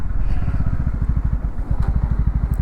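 A motorcycle engine chugging roughly at low revs with a rapid uneven pulsing beat close by, faltering as it stalls.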